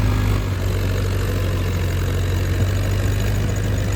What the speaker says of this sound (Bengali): ইঞ্জিনের সাউন্ডটা দেখতে পাচ্ছ তো, ইঞ্জিনে প্রচণ্ড দাপট আছে এখনও